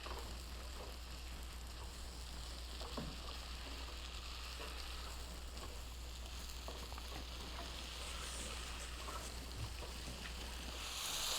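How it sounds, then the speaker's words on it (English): Mushroom curry sizzles and crackles steadily in a pan over high heat while being stirred, a dense even frying hiss with occasional light scrapes and no talk. "I will stir this on high heat, as high as I can get it, for a few minutes."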